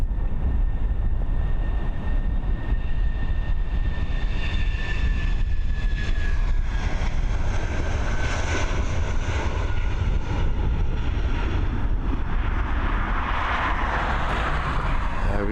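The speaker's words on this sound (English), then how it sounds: "the British Airways up and away" British Airways airliner taking off from Dublin Airport: a continuous jet engine roar with whining tones that slowly fall in pitch, growing harsher and louder toward the end, with no talking.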